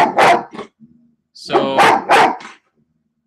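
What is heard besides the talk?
dog barking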